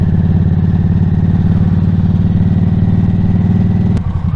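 A Harley-Davidson motorcycle rumbles along twisty roads with a loud, steady, low engine pulse close by, a brief sharp click near the end before the tone shifts slightly.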